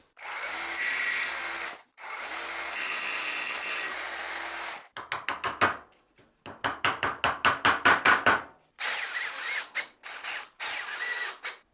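A rotary hammer drill bores into a ceiling during renovation work in France, running in two long steady bursts, then in a series of short rapid pulses and a few more quick runs, loud and close.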